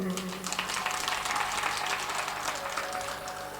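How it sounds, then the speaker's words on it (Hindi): An audience at a live Shrimad Bhagwat Katha religious gathering breaks into loud, sustained applause, dense clapping filling the space for several seconds. "जोरदार ताली बजाओ"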